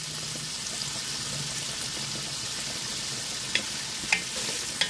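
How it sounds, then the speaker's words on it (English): Andouille sausages brown in about two tablespoons of grapeseed oil, giving a continuous close crackling sizzle with a few brief utensil knocks toward the end. "What we're getting ready to do is brown our sausage."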